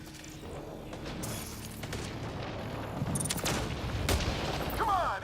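Gunfire in the video game Mass Effect Andromeda, a dense battle soundscape of repeated shots, booms and mechanical clatter, steady and loud across the moment.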